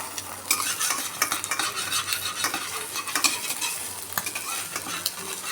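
Egg posto being stirred and fried in a kadai, a steady sizzle punctuated by frequent close scraping and clinking of a metal spatula against the pan.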